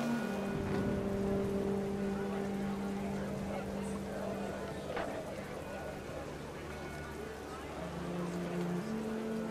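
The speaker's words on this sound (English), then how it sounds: "Rain came down in buckets then" Steady heavy rain hisses throughout at a moderate level, with a low rumbling drone underneath, in the video game What Remains of Edith Finch.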